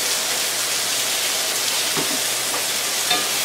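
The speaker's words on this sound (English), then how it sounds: "I'm going to put the Brussels sprouts in." Brussels sprouts frying in a pan, a dense, loud, steady sizzle with faint scraping, close and continuous throughout.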